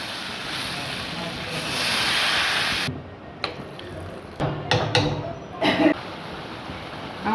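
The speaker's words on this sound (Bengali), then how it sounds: "কষে নিয়েছি, এবার জল দিয়ে দেব।" Water poured into a pan of frying spiced potato filling with turmeric, cumin and coriander gives a steady loud hiss that drops off sharply, followed by scattered sizzles and clatter.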